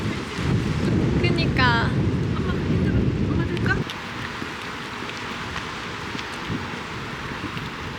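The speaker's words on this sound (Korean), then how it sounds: "바람." Strong wind blowing across a microphone on the coast of Jeju, a loud low buffeting rumble that drops to a softer steady rush halfway through, with a person speaking briefly over it.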